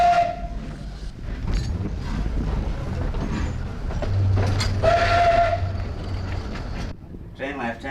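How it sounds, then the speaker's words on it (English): Trains pass through a station on a single-track line, a steam-type whistle sounding near the start and again midway over a steady low rumble of rolling stock, with people talking over it. "2 trains in and out, like clockwork there, Peter"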